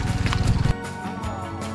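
Horse hooves clip-clop in a quick rhythmic run of close, distinct knocks for under a second, then give way to a quieter, steadier background, during a Mandar horse ride heading toward a river.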